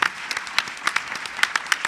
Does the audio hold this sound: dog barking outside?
no